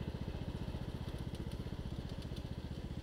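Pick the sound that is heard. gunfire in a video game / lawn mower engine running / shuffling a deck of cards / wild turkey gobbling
lawn mower engine running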